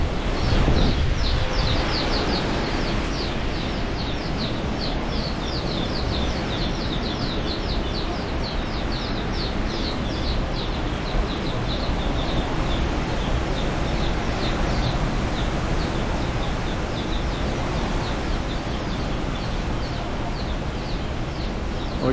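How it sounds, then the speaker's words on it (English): Chicks and a hen chirp in the background while a typhoon rages, high repeated peeps threading through steady, loud roaring wind and rain noise throughout. "I'm sure you can hear the chicks and hen in the background."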